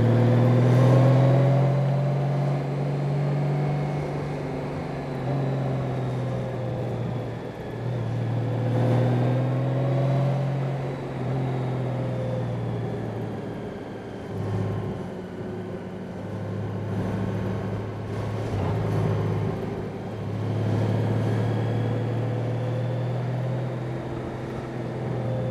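A 2018 Honda Goldwing, a heavy touring motorcycle, rides along a rough, rutted road, its engine giving a steady, loud drone with gently rising and falling pitch and a constant rumble of wind and road noise.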